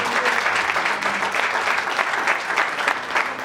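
Congregation clapping in a church service, dense sustained applause filling the room, loud and steady throughout.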